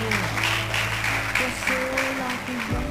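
An audience claps in a round of applause at an evening speaking event, a steady crowd patter over a sustained tonal hum and murmured voices.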